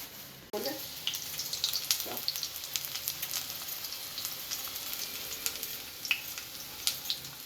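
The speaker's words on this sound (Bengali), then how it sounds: "কারণ একটু ভেজে হালকা করে ভেজে নেবো" Whole potatoes fry lightly in a pan, starting with a sudden sizzle as they hit the oil, then a soft continuous hiss with occasional crackles and stirring scrapes.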